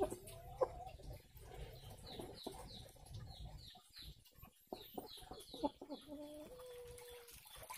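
Chickens peck and cluck while eating a homemade herbal feed mix of shallot and kencur, with close repeated clucks and short calls, soft pecking and rustling, and brief wing flutters.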